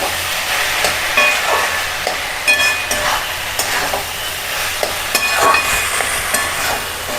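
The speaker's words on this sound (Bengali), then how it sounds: "এবারে নেড়ে নেব।" Grated radish ghonto cooks in hot ghee with garam masala, a loud steady sizzle and hiss overlaid with repeated spatula scrapes and clinks against the pan, close up and continuous, no one speaking.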